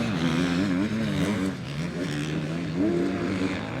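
EMX 250 motocross bikes race in a Grand Prix in Trentino, a loud continuous engine drone that rises and falls in pitch as the riders rev through the track.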